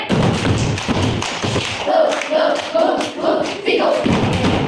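Rhythmic group clapping from a class playing a counting game, a run of crisp, evenly spaced claps close by, with chanting voices mixed in.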